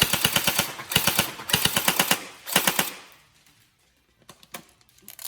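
Tokyo Marui SGR12 AES airsoft electric shotgun firing full-auto in rapid mechanical bursts, loud and close, with four short strings followed by a few quieter single clicks near the end.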